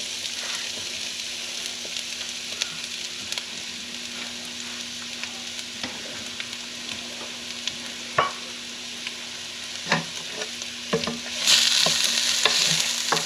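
Onions and garlic sizzle steadily in olive oil in a pan for baked ziti, a continuous close frying hiss with occasional stirring scrapes and clinks, growing slightly louder near the end.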